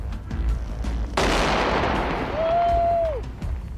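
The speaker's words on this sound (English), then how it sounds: "EOD decides that it's safer to destroy this one in place rather than move it." An anti-tank mine in Iraq is destroyed in place by an explosive ordnance disposal team. After a low rumble, a sudden loud single blast breaks out and trails into a long rolling roar, and a brief steady whine follows.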